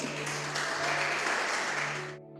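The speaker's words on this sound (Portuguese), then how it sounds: "Dê um aplauso para o Senhor." Church congregation clapping in praise during a Portuguese-language sermon, a dense steady burst of applause over a sustained low keyboard tone that cuts off abruptly near the end.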